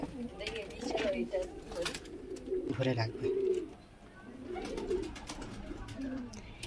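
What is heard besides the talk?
pigeons cooing in a Pakistani pigeon loft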